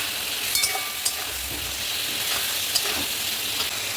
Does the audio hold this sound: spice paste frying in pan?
yes